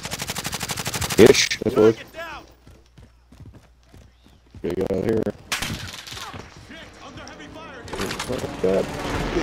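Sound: gunfire from a video game

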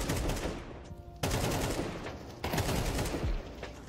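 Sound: gunfire in Counter-Strike 2 video game

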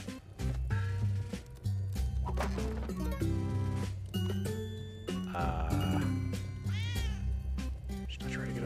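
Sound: cat meowing in the video game Spelunky

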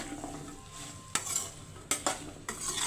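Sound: okra (bhindi) and peanuts frying in a pan

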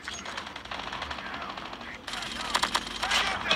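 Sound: automatic sniper rifle firing in video game COD Mobile

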